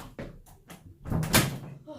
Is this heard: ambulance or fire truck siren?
no